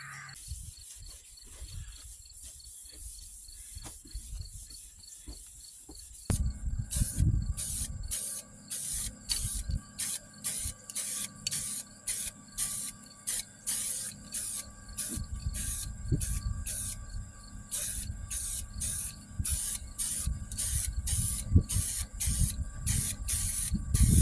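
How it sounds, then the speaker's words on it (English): An aerosol can sprays primer onto repaired rust-patched sheet metal in a steady hiss, with a quiet lead-in and then rapid pulsing passes that continue for the rest of the clip, close and loud. "I'll wipe it down with alcohol and then shoot a little primer on it and see what it looks like."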